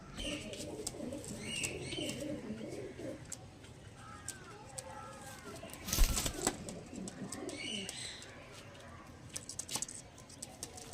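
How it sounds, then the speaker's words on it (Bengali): Black diamond pigeons coo softly in their loft, low rolling calls scattered through, with a sharp knock or bump partway and faint chirps in the background. "এটা মাদা পায়রা"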